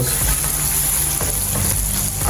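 Blended onions frying in a pan for Nigerian egg sauce, giving a steady, loud, close hiss and sizzle with faint stirring scrapes throughout.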